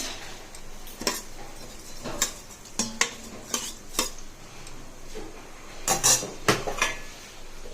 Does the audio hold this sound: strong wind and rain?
no